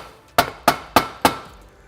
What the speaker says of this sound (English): I want to stop and take a hammer and hit the flange